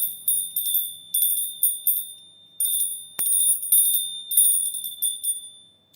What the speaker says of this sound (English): We'll ring a bell.